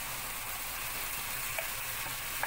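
Minced meat sizzling steadily in a pan as tomato juice is poured in, a dense continuous hiss close up with a couple of faint clicks near the end.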